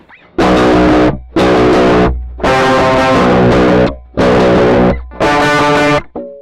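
Heavily distorted 7-string multiscale Aklot electric guitar strums five loud chords in turn, each held briefly with short gaps of silence between them.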